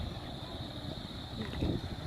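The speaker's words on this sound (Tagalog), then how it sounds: "Mahangin." Wind blows steadily across an open cemetery, buffeting the microphone with a low, rumbling roar that swells into a stronger gust near the end, with no voices.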